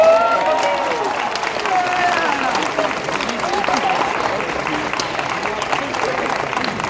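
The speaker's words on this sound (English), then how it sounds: "So you're clapping right now going," Audience applause and cheering at a Blue Knight 2024 drum corps show reveal, a loud, dense, steady wash of clapping from a large crowd that holds for the whole stretch without letup.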